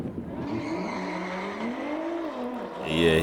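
A drag racing car, muscle car against supercar, launches with wheelspin, its engine note sweeping up and down under a squealing, scrubbing tire noise, loud and brief, ending in a burst of louder noise.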